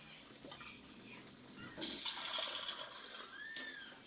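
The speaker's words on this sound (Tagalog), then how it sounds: "Mag-add tayo ng konting tubig." Water poured into a simmering pot of Filipino-style chicken curry, a soft running splash that swells for about two seconds midway, fairly quiet and close, with no talk over it.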